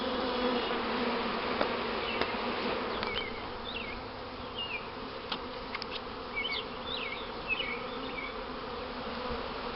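A honey bee swarm buzzes steadily in a backyard, a continuous faint insect drone with individual bees whining past close by now and then, and no voices.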